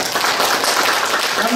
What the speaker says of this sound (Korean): 아까보다 조금 더 큰 박수 한번 드립니다